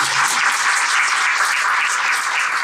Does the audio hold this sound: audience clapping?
yes